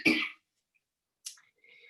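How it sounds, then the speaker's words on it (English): One harsh cough close by from someone speaking to a community gathering, followed after a pause by a shorter, fainter cough or throat noise, with no talk in between. "I'm coughing terribly"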